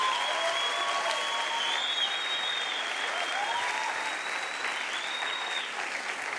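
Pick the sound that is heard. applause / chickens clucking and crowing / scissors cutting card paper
applause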